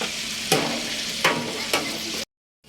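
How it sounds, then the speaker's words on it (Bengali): Meat curry with chili being stirred in a pot over heat, a steady sizzling fry broken by three scraping stir strokes at regular intervals, close and fairly loud, ending abruptly. "মরিচ দিয়ে ভালোভাবে মেশানো হচ্ছে"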